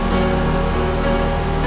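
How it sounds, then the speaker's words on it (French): A stream runs beside a mound of quarry rubble near old mine tunnels, giving a loud, steady rushing wash of water that stays constant throughout, with no voices. "on peut voir donc notre fameux ruisseau"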